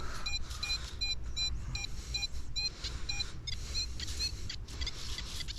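A metal detector gives a series of short, repeated electronic beeps in bursts while searching at a street workout park, over low rumbling background noise outdoors.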